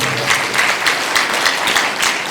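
A sermon congregation claps loudly in rhythmic unison, a quick series of strong, evenly spaced claps filling the hall for a couple of seconds.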